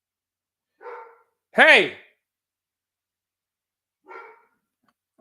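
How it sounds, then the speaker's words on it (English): A dog barks indoors: one sharp, loud bark stands out between two softer muffled woofs, with a brief spoken word from a person nearby. "Not sure what my dog is barking, but I hope he shuts up because I ain't hear anybody at the door."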